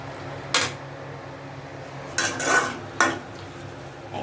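A lid is set onto a cooking pot of marinated mutton for kosha with a few sharp metallic clanks and a scraping rattle, close by and spaced out over a low steady background.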